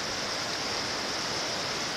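River water rushes steadily where Salmon Brook joins the Farmington River, a broad, even roar with no break and no voices.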